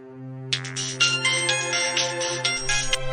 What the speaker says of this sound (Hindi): उसके बाद रोहित संध्या को कॉल करता है।